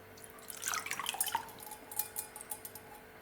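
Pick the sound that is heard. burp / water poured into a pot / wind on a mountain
water poured into a pot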